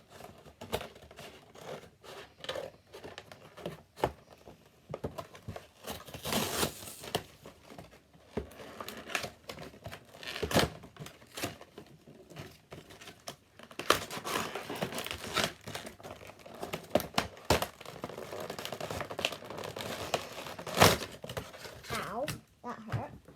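Crinkling and scratchy snipping of a Pokémon card pack's plastic wrapper being cut open with scissors, close by, in irregular bursts with brief pauses.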